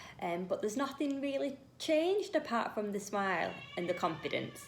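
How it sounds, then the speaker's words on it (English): A pet cat meows indoors several times, short tonal cries that overlap with a person talking steadily close by. "That's my cat."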